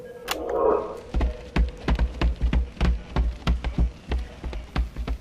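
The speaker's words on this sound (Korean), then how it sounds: "여러 명이 뛰는 소리." Heavy, rapid thuds of several people running pound along at an irregular, overlapping rhythm, fairly close, after a brief muffled rumble at the start.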